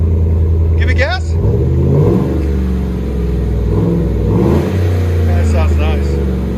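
A 2015 Chevy Silverado with a 5.3L V8 and stainless steel Carven TR mufflers on dual exhaust revs up in a deep, loud rumble, rising and falling close by, with people talking briefly over it.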